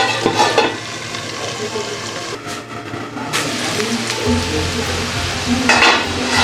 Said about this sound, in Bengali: আলু ভাজাটা হয়ে গেছে এবার নামিয়ে রাখবো